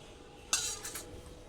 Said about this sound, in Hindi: देखिए अब इसको हम अच्छे से इसमें मिक्स कर लेते हैं।